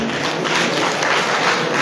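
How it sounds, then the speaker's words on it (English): Audience applause for Jefferson Clark at a youth empowerment event, a steady wash of many hands clapping at once, loud and even throughout without a break. "Please clap for Jefferson."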